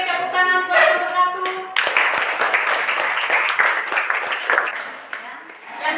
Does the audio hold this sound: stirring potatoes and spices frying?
no